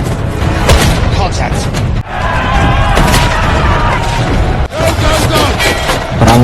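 Gunfire from a war film battle, soldier James firing on Japanese soldiers, heard as a dense, loud, continuous mix of shots and booms under a narrating voice.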